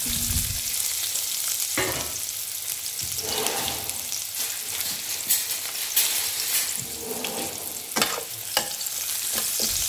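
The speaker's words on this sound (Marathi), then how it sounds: "कांदा आपल्याला थोडासा परतून घ्यायचा आहे।" Onion sautéing with cumin seeds in a pan for stuffed okra, a continuous loud sizzle with occasional scraping stirs, close up and without speech.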